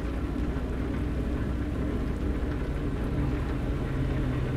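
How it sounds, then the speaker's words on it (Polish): Heavy rain in the Euro Truck Simulator 2 video game, heard from inside a truck cab as a steady dense hiss over a low rumbling drone, constant and moderately quiet, with no talking. "Przeokropnie pada."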